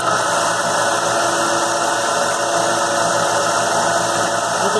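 A knife-making belt grinder motor with no variable speed control runs continuously at a constant pitch, a steady loud mechanical whir and hum close by with no speech.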